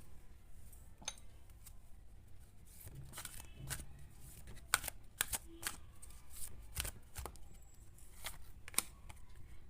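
Tarot cards shuffled and drawn from a deck: quick, close riffling bursts and soft slaps of cards in an irregular rhythm, fairly quiet, with no talk.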